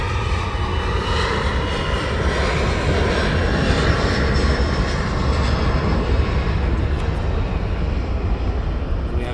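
An ASL jet aircraft departs East Midlands Airport with a loud, continuous engine roar, deep rumble and steady hiss filling the whole stretch, no voices present.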